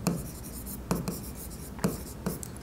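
A pen writes on paper during an accounting lesson, three short scratchy bursts spaced roughly a second apart, close and fairly quiet, with no voice over them.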